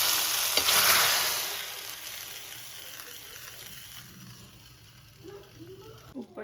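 A hot tempering of whole red chilies, cumin and garlic chili poured into fenugreek-leaf kadhi bursts into a loud sizzle that peaks early, then fades to a soft crackle, with a few light clinks near the end.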